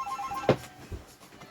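A phone rings briefly in a room where watercolor painting is underway, a faint electronic trill followed by a short louder burst and a softer second pulse, with no talk.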